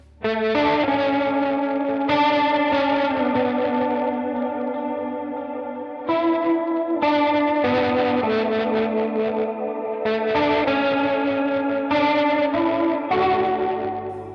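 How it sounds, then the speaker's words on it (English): Distorted electric guitar chords through a Universal Audio Dream 65 amp modeller ring out with a high-rate swirling chorus and echoing delay, sustained and repeated in several long phrases. "I had to use my chorus effect, turn the rate up way more than I normally would"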